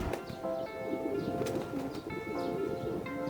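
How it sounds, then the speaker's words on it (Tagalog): Racing pigeons arriving at a loft during a summer young-bird race make soft repeated coos and chirps, faint and close, with light rustling around them. "hinuhuli natin si White Light para i-clock, dumating yung pang first tsaka second bird natin ng Summer YB"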